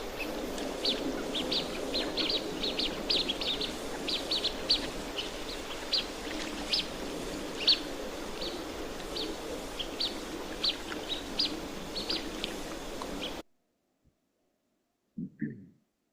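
A male duck gives a run of thin, high peeping calls repeated rapidly over faint background noise, steady for several seconds before cutting to silence.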